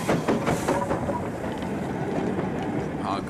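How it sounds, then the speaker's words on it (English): A steam locomotive in North West England hauls a rake of early British Railways containers on Conflat wagons, passing under a main line with a continuous rumbling roll and rhythmic wheel clatter, while a voice speaks faintly. "hauls a rake of early British Railways owned containers on conflat wagons under the main line"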